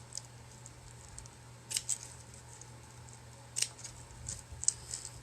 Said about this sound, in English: Maybe I should have made the wider ribbons bigger, longer. Well, maybe I can just cut these.